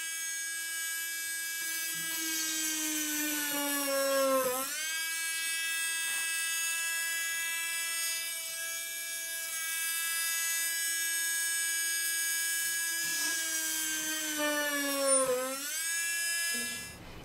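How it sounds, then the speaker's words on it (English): A small high-pitched drill whines steadily while drilling through resin, its pitch dipping twice as it bites under load, then rising again; close and continuous. "turn this on, and drill straight up and down, going slowly."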